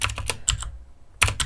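Keys clack on a computer keyboard as a command is typed at the command line: a quick burst of clicks, a short pause, then another flurry of keystrokes, heard up close with no speech.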